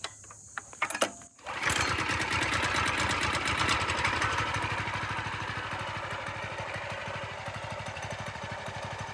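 A Trailmaster MB-200 mini bike's small engine is pulled or cranked, catches after a brief stutter, then settles into a steady, rapid idle putter, close by and fairly quiet.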